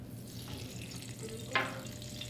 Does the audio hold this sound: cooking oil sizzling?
yes